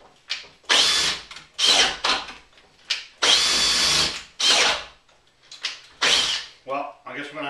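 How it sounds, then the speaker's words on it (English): An 18V brushless hammer drill bores into wood at high speed and high torque in repeated loud bursts, whirring up and cutting off with short pauses between, with no voices over it. "I've got the drill set on drill. I've got it on its highest torque, and I have it on speed too."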